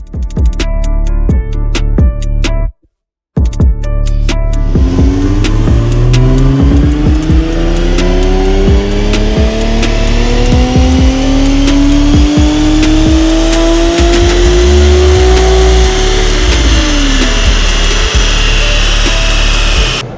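A loud Nissan 370Z engine on a dynamometer revs steadily upward for several seconds, its pitch climbing and then dropping off, after a brief silent gap near the start.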